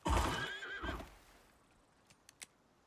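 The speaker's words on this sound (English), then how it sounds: "I see a horse." Horse in the survival video game Icarus giving a loud, close whinny that trails off over about a second, followed by a few faint clicks.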